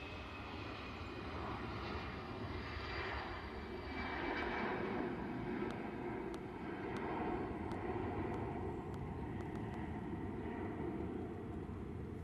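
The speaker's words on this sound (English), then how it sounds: "EasyJet A320 to Barcelona," An EasyJet Airbus A320 rolls for takeoff at Manchester Airport, its engines a steady, broad roar that swells slightly midway and holds loud throughout, with no voices.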